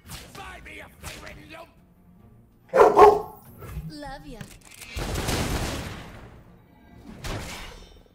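A dog barks a few times in short bursts in the card game Legends of Runeterra, mixed with game sound effects and sharp gunfire-like cracks, with voices talking around it.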